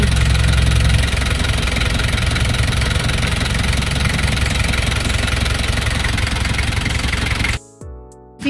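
The engine of a surplus Japan vehicle idles loudly and steadily up close with a constant rattling hum, then cuts off abruptly near the end before a brief knock.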